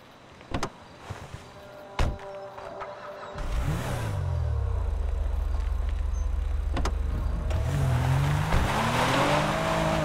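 A car in the video game GTA V: a couple of door-like thumps, then the engine starts and revs into a steady drone that climbs as it accelerates, loud and close, with no talking.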